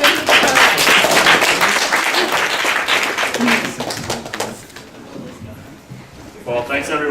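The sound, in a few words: audience applause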